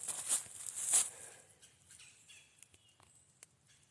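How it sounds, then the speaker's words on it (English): Birds call out in woodland on a farm by day, two sharp loud chirps near the start followed by scattered fainter calls and light rustling. "You hear the birds snitching on me?"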